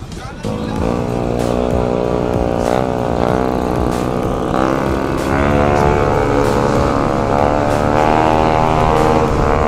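A loud Honda Winner X motorcycle engine revs up and down repeatedly, close by and dominant, with rising and falling pitch sweeps throughout.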